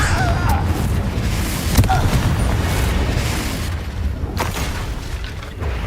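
Fiery spell blasts from the Hogwarts Legacy video game: a series of deep booming explosions over a rumbling battle background, with sharper bursts around the two- and four-second marks.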